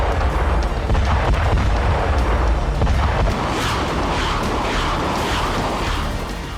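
Explosions from a Russian attack on Ukrainian positions in war footage, loud and continuous, with heavy overlapping booms and rumbling blasts filling the whole stretch without a break.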